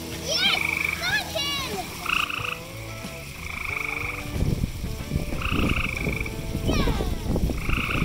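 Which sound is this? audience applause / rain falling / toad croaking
toad croaking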